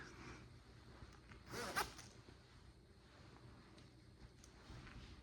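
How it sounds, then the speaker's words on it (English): Front zipper of a Joe Fresh women's fall jacket with large pockets and a built-in scarf, zipped up in a single quick upward pull around the two-second mark, fairly close and clear against quiet room tone. "And when it zips up"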